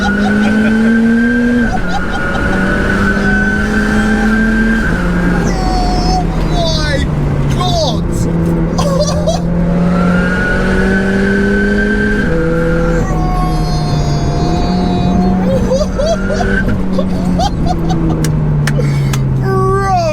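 A 713bhp four-wheel-drive engine-swapped VW GTI pulls hard on full boost, its engine note rising in long sweeps through several gear changes with loud, close revving while people talk excitedly over it.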